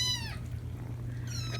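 Kitten named Vegas meows angrily, two drawn-out cries at the start and end with a quiet stretch between, over a low steady background hum.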